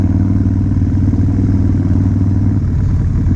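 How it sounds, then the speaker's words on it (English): Harley-Davidson motorcycle fitted with a Two Brothers Racing exhaust, idling loud and close with a steady, deep, lumpy rumble. "I think that's the bike I did the test ride video on, because it's got that Two Brothers Racing exhaust"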